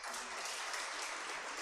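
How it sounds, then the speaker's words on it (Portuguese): A church congregation applauds together, a dense, sustained wash of clapping from many hands filling the room without pause. "Vamos aplaudir a Deus pela vida desse homem de Deus"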